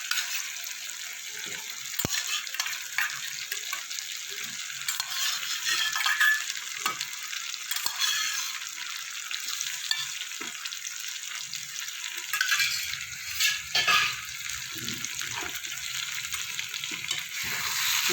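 Chicken frying with spices in a pan, a steady, close sizzle that runs on alone, with louder crackling bursts near the end as meat is added and stirred.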